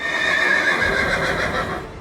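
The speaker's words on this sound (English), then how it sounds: "to my amazement, it was just a massive horse" Torrent, the spectral steed from Elden Ring, lets out a loud, sustained neigh that fills the two seconds on its own, with a faint hint of hooves beneath it.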